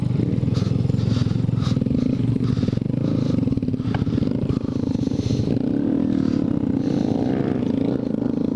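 A Honda Grom motorcycle rides off-road through wet, muddy woods, its small engine droning loudly and steadily with clattering and scraping from the terrain throughout.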